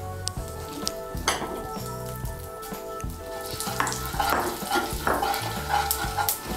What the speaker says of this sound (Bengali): এর মধ্যে আমি তেজপাতা, শুকনো লঙ্কা আর গোটা জিরে ফোড়ন দেব।